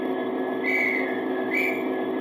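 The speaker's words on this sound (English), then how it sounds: "10 is a whistle." Two short, thin electronic whistle toots from an OO gauge Hattons Class 66 model locomotive's sound decoder, sounding over a constant low mechanical hum.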